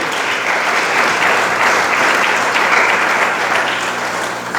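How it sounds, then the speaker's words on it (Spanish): A church congregation claps loudly and continuously during a pastor's sermon, a thick, sustained wash of many hands applauding together without a break. "Dele palmas al Señor"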